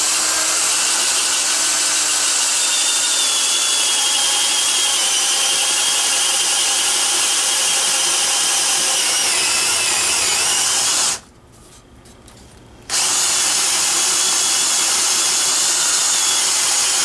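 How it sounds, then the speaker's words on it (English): A power drill fitted with a big drill bit whines steadily at full speed, stops briefly for about a second, then spins up again and keeps running. "That's a big drill bit."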